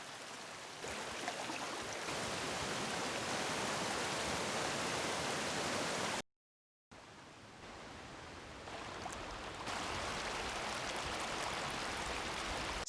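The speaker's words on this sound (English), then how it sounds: "add in one waterfall sound, and the other, until we get the full experience" Waterfall sound effects layered for video, a dense steady roar of rushing water that builds in stages, drops out briefly to silence midway, then returns fuller and louder as more layers are added.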